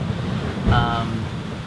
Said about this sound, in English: The wind and the waves increased a little bit once we got in